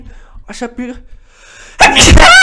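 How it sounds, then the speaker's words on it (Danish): A single loud, close sneeze bursts out at the end, following a stretch of quiet speech while someone builds a water park in Minecraft. "det var et nys"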